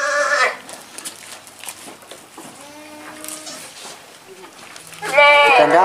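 Etawa crossbreed goats on a breeding farm let out loud, nasal bleats at the opening and again at the close, with quieter speech and farm noise in between.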